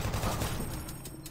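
Quick burst of gunfire in the Doom 3 video game, a rattling volley of shots in close succession, fairly loud and brief.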